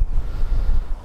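Strong wind buffets the microphone on an outdoor walk along a former border ditch, a loud, low rumbling roar that pulses unevenly throughout the short moment.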